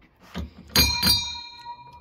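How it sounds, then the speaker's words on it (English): A pub's last orders bell in Bristol gives two quick bright rings close by, each with a short metallic decay, after a soft knock. "You've got your last orders bell."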